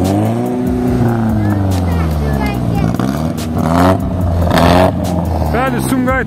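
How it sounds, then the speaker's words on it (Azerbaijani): BMW and Mercedes cars with modified exhausts rev loudly and continuously at the Sumqayit car market, the engine drone rising and falling under a commentator's talk. "quşdellər bir-birinə meydan oxuyur"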